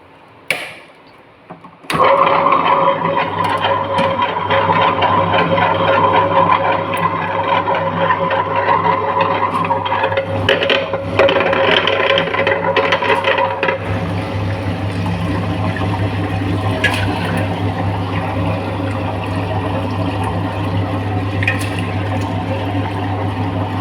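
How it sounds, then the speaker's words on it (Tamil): A wet grinder churns soaked rice with water into idli batter, a loud steady mechanical whir and rumble that starts abruptly after a moment of quiet and runs continuously, slightly changing tone midway. "இப்போ எல்லா அரிசியுமே போட்டு கிரைண்ட் ஓடிக்கிட்டுருக்கு"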